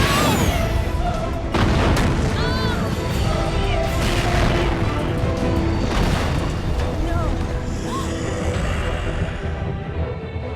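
Nemesis firing his rocket launcher in Resident Evil, heavy booming explosions and crashing impacts over a loud continuous roar, with a voice talking over the chaos.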